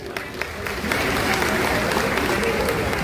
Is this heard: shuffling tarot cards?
no